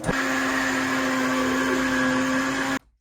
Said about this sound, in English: This goes into my blender. pop this and just puree it till it's nice and smooth.